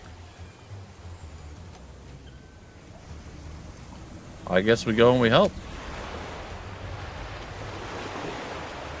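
A stormy sea in the pirate video game Tortuga A Pirate's Tale, with a steady wash of wind, rain and surging waves throughout, broken midway by a short burst of talk.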